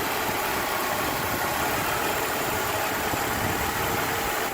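A 1999 BMW 520i six-cylinder engine idles roughly at close range, a steady dense rumble with uneven vibration and no pauses.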